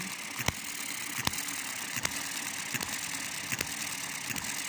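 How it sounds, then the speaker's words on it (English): A small hit-and-miss model engine running on 95-octane car petrol mixed with two-stroke oil idles steadily, with sharp regular firing pops roughly every three-quarters of a second over a faint mechanical hiss. "So you can hear it sound like a boop, boop, boop, boop up"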